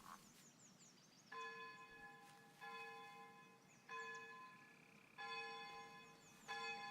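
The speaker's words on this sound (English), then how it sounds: "Oh, we can hear the church bells." Church bells ring out in the town-building game Foundation, each stroke a bright, sustained chime that decays slowly, struck about five times at roughly even intervals over a low ambient background.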